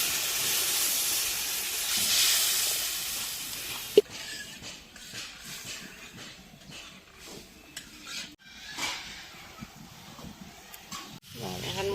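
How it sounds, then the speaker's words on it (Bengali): Hot water hits frying spices in a pan while cooking a chitol fish muithya curry, giving a loud hissing sizzle for the first few seconds that fades into quieter stirring and a few soft clatters. "এখন ভাজা হয়ে গেলে গরম জল দিয়ে দেব মাখা মাখা তেলের জন্য। গরম জল দিয়ে দিচ্ছি।"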